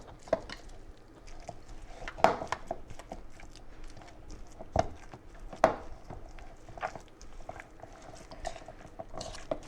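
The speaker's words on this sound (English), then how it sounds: "Break those egg yolks and then start mixing. And I just want to mix this up until everything is well mixed together." Spoon working through a meatball mixture with broken egg yolks in a bowl, soft wet squelches and occasional sharp scrapes against the bowl, quiet and close with no talking.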